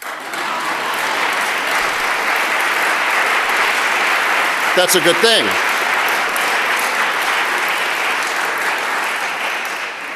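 Audience applause during a State of the City speech in Saint Paul, a steady, dense clapping wash lasting the whole span, with a brief spoken remark over it midway.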